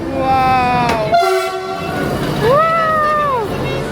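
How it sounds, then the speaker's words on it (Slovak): Train passing close by, a loud rumbling rush of carriages with two tonal horn blasts, the second rising then falling, while voices chatter nearby. "A tam ide vlak, ja vám ho ukážem."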